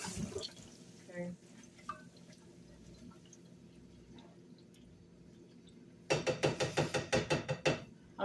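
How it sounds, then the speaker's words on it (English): Water is poured into a pot of cooking vegan macaroni, with faint earlier drips and splashes followed by a loud burst of rhythmic sloshing near the end. "Put a little bit more water in there."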